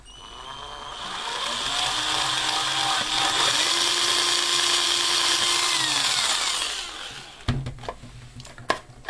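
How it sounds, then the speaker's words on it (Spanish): A power drill bores holes into the plastic enclosure of an ESR meter component tester. Its close, loud, steady whine rises and holds for about seven seconds, then cuts off and is followed by a few sharp handling clicks. "Y con esta es un instante el realizar los agujeros."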